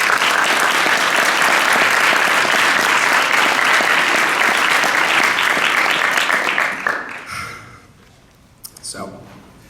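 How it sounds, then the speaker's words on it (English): A graduation audience at the UNLV Honors College medallion ceremony breaks into loud, sustained applause, which fades out after about seven seconds, leaving a quieter room with a few stray sounds. "Graduates, would you please join me in applause?"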